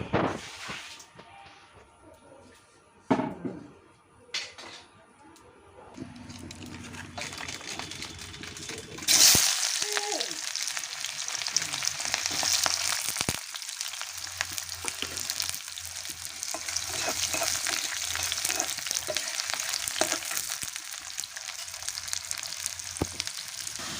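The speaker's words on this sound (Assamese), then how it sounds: "হাঁহ মাংস গোটা ভাজি।" Duck meat frying in a pan gives a continuous loud sizzle that starts abruptly after some quieter clatter and handling noises, then holds steady close to the microphone.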